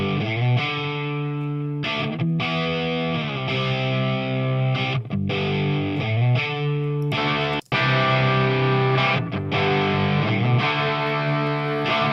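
Distorted electric guitar chugs power chords in a steady pop-country rhythm, loud and continuous with brief stops between phrases and a sharp cut near the end.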